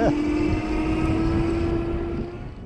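An off-road electric scooter with two motors speeds up, its steady electric whine holding a constant pitch under broadband wind and road rumble, loud and close throughout.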